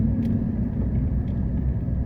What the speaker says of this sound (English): You've gone in circles while I was in your truck.